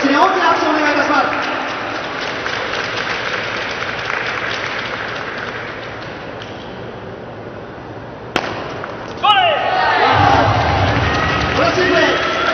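Audience applause fills a table tennis arena in Osaka during a T.League match, a broad steady wash of clapping for both players that continues for several seconds before thinning out, then swells again, with a voice speaking over it.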